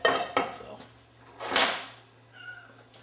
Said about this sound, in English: that's our shop cat